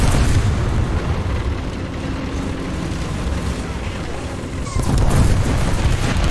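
In War Thunder, a tank is destroyed amid loud booming battle noise, with heavy low rumbles throughout and a sharp blast near the end that lifts the volume; a voice speaks faintly under it.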